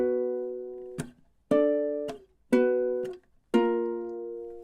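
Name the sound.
ukulele playing a riff with mutes and slides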